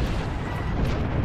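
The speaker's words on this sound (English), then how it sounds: "There's a lot of explosions. We both sent down mortar strike." Mortar strike explosions in Apex Legends, a steady, heavy rumble of overlapping blasts that sounds close and loud for the whole moment, with no clear gap between impacts.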